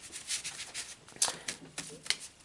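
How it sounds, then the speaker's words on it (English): Playing cards are shuffled by hand for a tabletop football board game, a soft riffle and scattered flicks and snaps, quiet and close, with a few sharper card clicks. "Let's get a good shuffle here."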